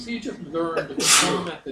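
A sharp, breathy sneeze bursts out close to the microphone in the middle of a man's speech, with talking on either side.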